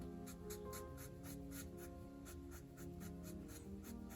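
A blending stump makes soft, rhythmic scratchy strokes back and forth on paper, close and quiet, repeating at an even pace under a faint steady background hum.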